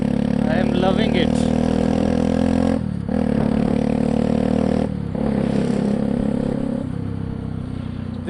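A Bajaj Pulsar 200NS motorcycle fitted with a modified exhaust idles and revs with a loud, throaty drone. The engine cuts briefly twice before picking up again, close to the listener.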